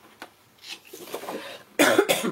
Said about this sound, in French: Je vais passer la moitié du tuto à vous tousser dessus.